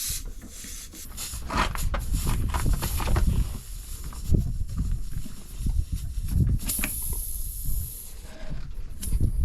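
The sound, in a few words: tyre repair reamer worked in tubeless tyre puncture hole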